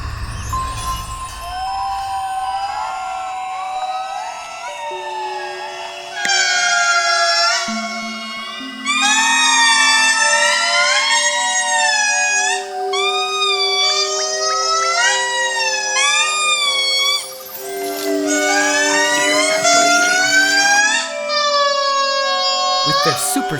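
An indri lemur father in Madagascar calls for his lost son, a loud wailing siren-like song of rising and falling howls that builds into overlapping, layered cries lasting many seconds, close and strong.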